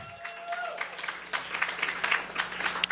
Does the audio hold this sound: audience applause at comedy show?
yes